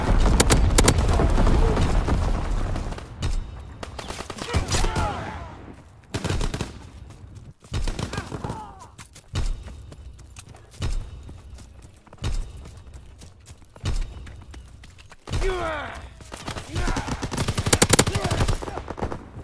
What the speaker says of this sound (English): Aircraft ready for strafing run.